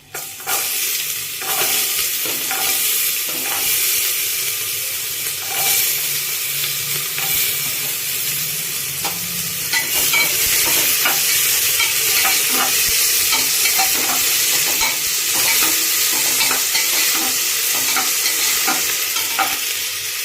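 Potatoes fry in a hot spice tempering for vegetarian daliya khichdi with a loud, continuous sizzle and steady stirring. The sound stays close and dense for the whole stretch.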